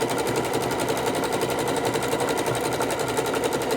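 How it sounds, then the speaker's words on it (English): A heavy-duty sewing machine runs steadily at high speed nearby while quilting, its needle producing a fast, even mechanical rattle with no pauses. "So I love, love, love my Heavy Duty sewing machine."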